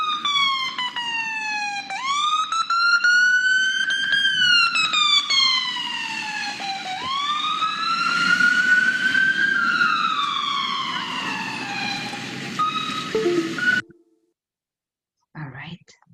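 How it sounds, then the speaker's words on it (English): An ambulance siren wails loudly and continuously, sweeping up and down in repeated rising and falling cycles before cutting off abruptly, followed by a short silence and a brief blip. "we can hear also the sirens"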